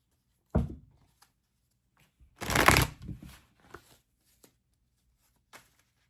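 A deck of tarot cards is shuffled close by: one short riffle, then a longer, louder riffling burst of about a second, followed by a few light taps and quiet card handling, with no voices.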